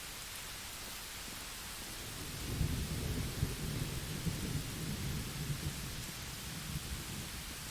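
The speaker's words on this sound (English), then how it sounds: "I love how rainy and stormy this environment just got." Rain and a thunderstorm in the Wrath of the Righteous game: a constant hiss of falling rain, then a deep rolling thunder rumble builds in midway and lingers under the downpour.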